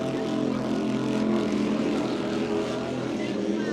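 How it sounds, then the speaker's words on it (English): A 42-foot Fountain V-bottom offshore powerboat with a cut-down deck accelerates in a race, a steady, dense engine roar that holds loud and even throughout. "There you hear the acceleration."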